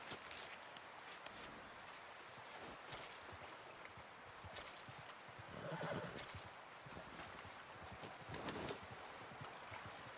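A horse whinnies twice over soft clip-clopping hooves and a steady outdoor wind-like ambience, fairly faint and distant, in the video game Red Dead Redemption.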